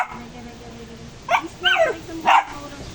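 Small black dog giving a few short yips and whimpering barks over about a second and a half, close by, with quiet background room noise.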